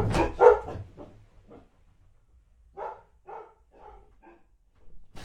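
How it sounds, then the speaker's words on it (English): Pet dogs barking indoors, heard alone: a loud cluster of barks at the start, then a few softer scattered barks and yips a few seconds later, at moderate distance. "Sorry, it's my dogs."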